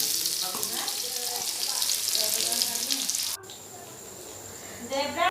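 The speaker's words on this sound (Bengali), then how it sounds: "তো পেঁয়াজটা আমি এখন ভেজে নেবো লাল লাল করে" Sliced onion frying in hot oil in a wok, a continuous bright sizzle that runs steadily before cutting off abruptly, then a quieter stretch with a soft clatter near the end.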